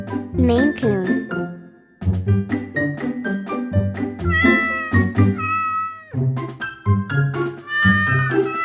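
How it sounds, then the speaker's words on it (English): Loud, close meows from a Maine Coon cat come in a continuous series, one call after another with brief gaps, set over background music. "Maine Coon."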